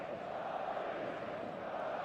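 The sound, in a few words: stadium crowd in football video game eFootball 2026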